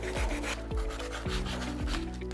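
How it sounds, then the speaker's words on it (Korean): Sandpaper rubs along the edges of an assembled wooden frame made from scrap wood for a lamp, about five rhythmic back-and-forth strokes, close and clear with no speech. "이렇게 조립이 끝났으면 사포를 들고 다시 한번 이렇게 모서리 같은데"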